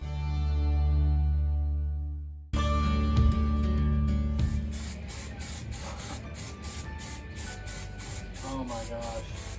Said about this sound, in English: then start spray painting.